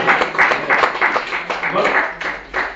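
A church congregation claps in steady, rhythmic bursts, lively and fairly close, with voices mixed in among the applause.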